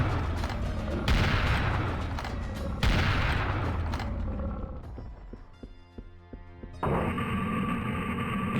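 Plasma thrower firing at enemies in the video game Serious Sam Revolution: heavy repeated bursts and booming blasts, loud and dense, thinning into scattered mechanical clatter before another loud burst.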